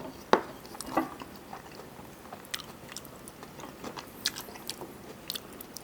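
Close, quiet chewing and biting on ramen with raw beef and crunchy bits of garlic: a couple of sharper crunches near the start, then soft, irregular mouth and chewing noises through the rest.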